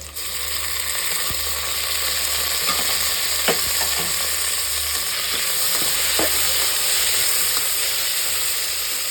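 Green chillies and vegetables sauté in a pan for vegetable biryani, a steady close sizzle and frying hiss running throughout, broken by a few sharp clicks of a spoon stirring against the pan.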